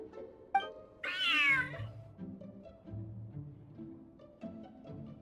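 A single drawn-out meow from a cat in Genshin Impact rises and falls clearly, with quieter soft game sounds before and after, with no talking.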